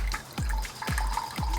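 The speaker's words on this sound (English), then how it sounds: "we're gonna have to tilt it and kind of pour it in" Water poured into a Survivor water filter gives three splashy gurgling bursts in a steady rhythm, close and moderately loud, with a continuous trickling wash between them and no voices.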